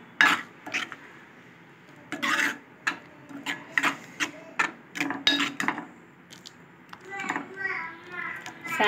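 A spoon stirring semiya payasam in a pot, giving a series of short scraping strokes in an uneven rhythm, close and fairly clear.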